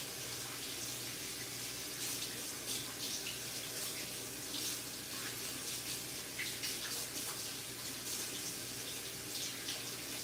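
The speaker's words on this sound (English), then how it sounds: "Let me wash my hands." Kitchen tap water runs steadily into a sink while someone washes their hands mid-cooking, a constant splashing stream with no talking.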